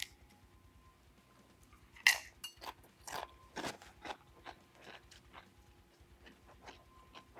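Homemade air fryer tortilla chips with pineapple salsa crunch loudly and close up in a series of crisp bites and chews, starting with one sharp crack and continuing as irregular crunches in a quiet room.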